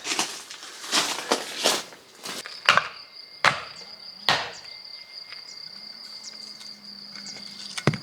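A hammer strikes stones being broken up for a stone fireplace on an abandoned farm, a run of sharp, loud, irregular cracks and knocks close by, with a steady high insect-like whine lingering between blows.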